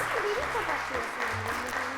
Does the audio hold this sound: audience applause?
yes